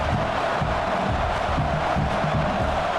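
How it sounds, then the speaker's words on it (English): A college football stadium crowd for Texas A&M versus Miami roars in a continuous, dense wash of cheering and shouting, loud and steady throughout. "this crowd is fired up. Listen to this noise here."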